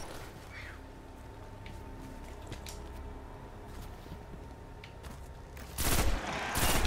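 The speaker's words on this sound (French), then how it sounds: "Ah, c'est une arme à rafale." A burst-fire weapon in Destiny on Xbox One, with scattered shots over a low rumbling background and a louder, dense burst near the end, no voices.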